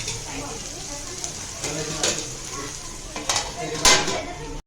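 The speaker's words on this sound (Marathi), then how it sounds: "आपण पाच मिनटं झाकण झाकून ठेवूया" A metal lid clinks down onto a pan of cluster beans cooking as a dry green-masala stir-fry, giving a few sharp metallic knocks over a steady soft sizzle, the loudest clank near the end.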